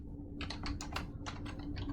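Rapid typing on a computer keyboard, a close burst of crisp, irregular key clicks running for about two seconds over a steady low hum, with no voices.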